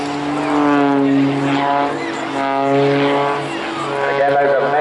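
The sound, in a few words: Muscle Pitts aerobatic plane's big 6-cylinder air-cooled engine growling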